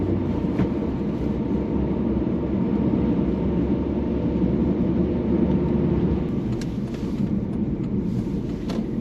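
A Volkswagen Passat B5.5 hums along on a neighborhood drive in second gear up a slight hill, a steady low engine and road rumble filling the cabin without talk.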